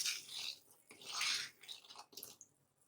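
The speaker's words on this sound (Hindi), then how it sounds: "पानी को उबाल आ गए।" Water boils under a lid, giving soft, uneven bursts of bubbling and hissing that swell and fade, quiet and close, with no voices.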